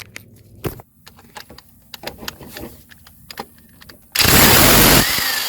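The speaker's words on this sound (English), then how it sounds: "we're going to try it here and see if it can budge here with this electric impact" An electric impact wrench breaks loose a bolt on a Chevrolet Sonic LT 1.8 engine during timing belt work, with scattered clicks and handling noises first, then a loud, sustained hammering burst near the end.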